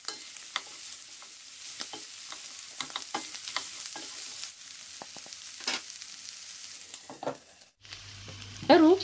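Lengthwise-sliced onion frying in a pan for Ethiopian tripe, a crackling sizzle broken by repeated sharp stirring scrapes and clacks, close up, ending with a brief clatter and a louder knock.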